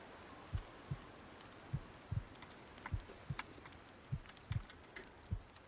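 Heartbeat sound effect in a survival video game, a steady run of soft, deep thumps in doubled beats repeating about every second over a faint hiss, with no talking.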